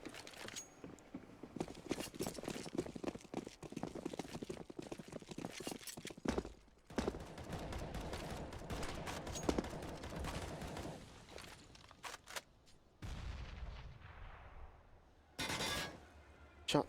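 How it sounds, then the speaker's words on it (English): Gunfire in a Counter-Strike match on the Train map, AWP and M4 and AK rifles, with rapid bursts and single sharp shots scattered throughout, punctuated by brief silences and a louder closing volley. "Shots coming through, AWP out for James, M4s and AK for Dima"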